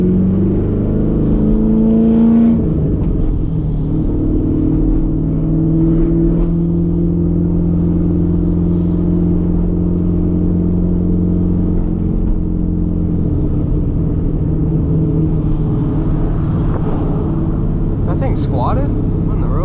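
A straight-piped, cammed C5 Corvette's exhaust while driving, a loud steady low droning rumble heard from inside the car, with a voice talking over it.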